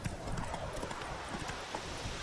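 Roach the horse from The Witcher 3 video game gallops with steady, rapid hoofbeats under a dense wash of ambient game sound, moderately loud throughout and with no talking.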